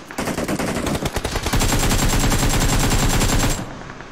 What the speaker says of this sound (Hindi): मेरा बंदा गन पकड़े पकड़े गोली कैसे मार रहा है?